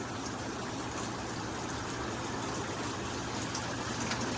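Water gushes steadily from the jets of a shower panel in a basement shower, a loud, continuous spray drumming without pause and no voices.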